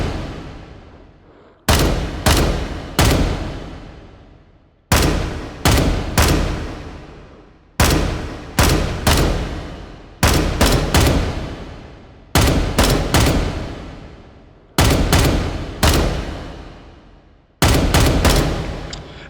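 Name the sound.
gunshots at targets in the video game H3VR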